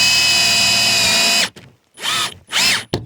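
A power drill bores through a wooden truck flatbed, whining steadily and loudly, then cutting off and restarting in two short bursts as the bit pushes through the planks.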